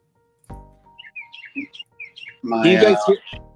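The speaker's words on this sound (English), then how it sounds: "Can you guys hear the bird?" A loud bird chirps repeatedly in short bright bursts close by, with a voice speaking briefly between the calls.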